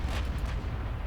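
Heavy battleship guns firing in the naval game Ultimate Admiral Dreadnoughts, a continuous low rumbling roar of big-gun blasts with no distinct pauses, loud and dense throughout.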